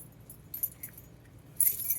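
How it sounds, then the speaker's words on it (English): Keys jingle on a handmade fabric keychain wristlet, giving light metallic clinks in a couple of brief bursts with a brighter shake at the end, soft and close in a quiet room. "We got keys, y'all."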